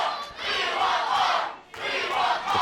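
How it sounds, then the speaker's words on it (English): A sold-out crowd of about 170 at a wrestling show in Salisbury's Studio Theatre chants in loud, rhythmic unison, two swelling bursts of voices separated by a short dip. "the cries of "We want more" from the sold-out 170 strong Studio Theatre"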